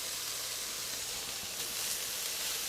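Onion, garlic and ginger sizzle in a stir-fry pan with chicken and vegetables, a steady, even hiss of frying with no talk over it.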